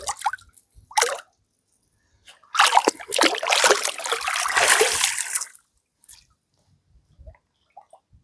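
A large old carp returned to the water at a reservoir, with a few drips and brief splashes, then a loud, sustained splashing and sloshing for several seconds before it fades to quiet trickles.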